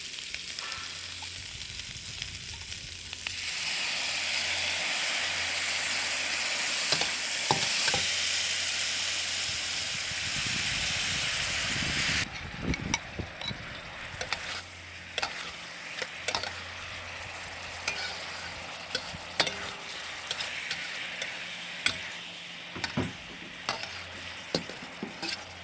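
Shrimp and garlic fry in a pan for honey garlic shrimp, a loud rushing sizzle that drops abruptly to a quieter crackle, punctuated by repeated clicks and scrapes of stirring.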